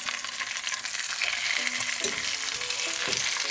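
Bavarian-style pork knuckle fries in a pan with a steady, close crackling sizzle and occasional stirring clatter, no voices.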